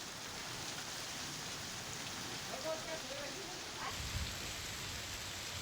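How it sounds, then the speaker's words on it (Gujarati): Heavy rain pours steadily in Dhari, Amreli, Gujarat, a dense even hiss with a low rumble of thunder rolling in near the end. "ગાજવીજ સાથે વરસાદ અમરેલીના ધારીમાં ખાબક્યો છે।"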